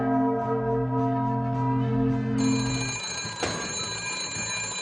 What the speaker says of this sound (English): Let's check the old chime time.